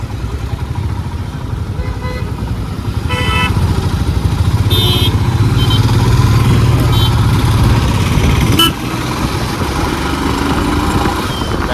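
A 411 cc motorcycle ridden on a road, its engine droning steadily and swelling louder midway, with a few short horn toots from nearby traffic and faint wind.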